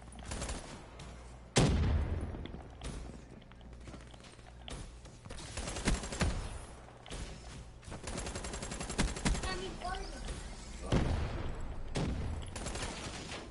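Automatic gunfire in Call of Duty Black Ops 3, with rapid bursts and sharp single shots cracking repeatedly, some near and loud, others fainter, in a busy firefight.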